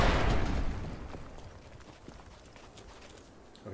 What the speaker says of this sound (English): they heard the explosion and they're gonna come run